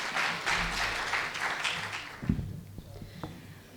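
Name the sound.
audience applause at a mushaira poetry event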